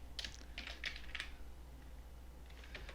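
A computer keyboard is typed on, entering a sum in an Excel spreadsheet. A quick burst of several keystrokes is followed by a pause, then a few softer taps near the end, quiet and close, with no talking.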